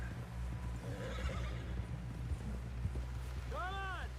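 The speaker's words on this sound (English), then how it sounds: "Someone help John down off this horse" A horse in Red Dead Redemption 2 gives a single sharp whinny near the end, after a stretch of faint hoof and movement noise under a low steady hum; a voice talks over part of it.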